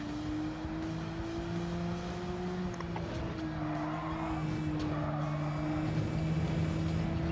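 A race car engine in Gran Turismo 7 holds steady high revs with a sustained, loud drone and shifting tone, a faint tire squeal and skidding mixed in, with no talk.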